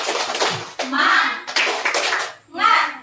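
A school class does a rhythmic clapping chant together, with bursts of group claps and children's voices calling out in short, loud, energetic phrases separated by brief pauses.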